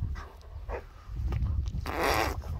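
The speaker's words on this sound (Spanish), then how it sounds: "¡Qué bien suena este perro!" A Rottweiler's low, rumbling growl up close, coming in uneven bursts that swell louder toward the end.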